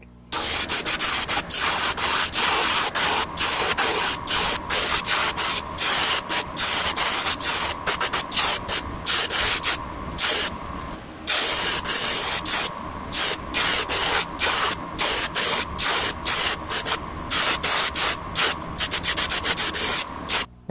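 An airbrush hisses as it sprays a white base coat onto a shad-colored jerkbait lure, a loud, close, continuous spray broken by brief stops and short bursts, with no talking.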